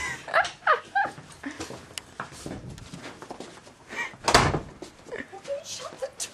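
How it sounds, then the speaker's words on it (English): A door shuts with a firm thump partway through, amid a busy mix of voices and dog whimpers and yelps close by. "I shut the door, didn't I?"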